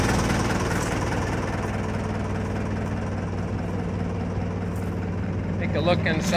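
A tank engine idles just after start-up, with a rebuilt transmission, putting out a loud, steady low rumble and vibration that runs throughout.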